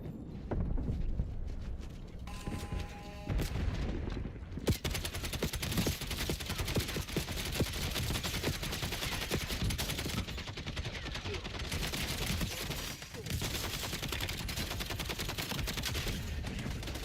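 Gunfire from a gun in Call of Duty Black Ops 7: dense, rapid automatic bursts crackling almost continuously at loud level, with brief pauses and mechanical clicks in the game mix.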